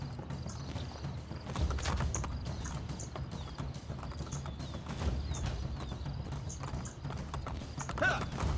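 Horse galloping in the video game Assassin's Creed Brotherhood, a steady, close clip-clop of hoofbeats running through the whole stretch over a bed of game ambience, with no talk.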